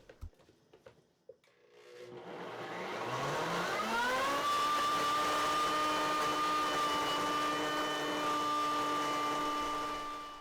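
A Blendtec blender with a twister jar spins up from quiet to a loud, steady high whine and grinding hum as a frozen dessert mix churns, with a spatula scraping the jar walls.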